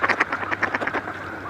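Ducks at Trout Lake in Burnaby, a quick run of loud nasal quacks in an uneven rhythm, close by with no talking.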